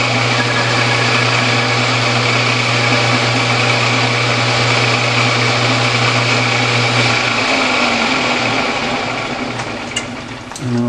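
A metal lathe runs steadily while a tool chamfers the edge of a workpiece, giving a continuous loud motor whine with a steady hum that shifts slightly near the end.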